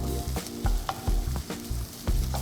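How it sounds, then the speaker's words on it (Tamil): Green chillies and julienned ginger sautéing in a pan, a sizzle under repeated scraping strokes of a spatula in a steady rhythm, close and fairly loud, with no talking. "நல்ல ஜூலியனாக வச்சுருக்கிற ஜிஞ்சர் ஜிஞ்சரையும் சேர்த்து இதோடு வதக்குறோம்"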